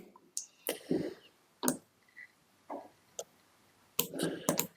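A computer mouse clicking while working in a visual website editor, with sharp, separate clicks spaced irregularly across the clip, fairly close and clear, with no talking.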